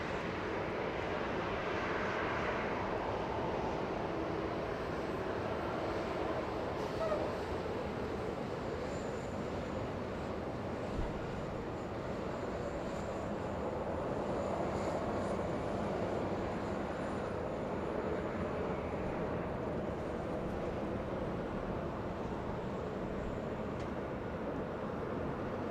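Boeing 787 Dreamliner landing at Los Angeles International Airport, a continuous low engine rumble and broad airflow roar that stays fairly even and moderately distant throughout.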